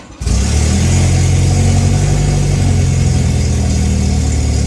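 A Volvo 245 engine with the choke pulled out catches and runs steadily at a raised idle, a loud, close, continuous mechanical drone with no talking.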